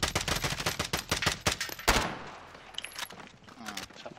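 Unsilenced gunshots in a video game: a quick rapid burst of sharp, loud shots up close, then a few scattered single shots more distant after a pause.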